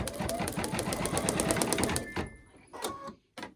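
An embroidery machine stitches an in-the-hoop design with a fast, even mechanical chatter of rapid needle strokes. After about two seconds it halts abruptly, leaving a few scattered clicks and bumps.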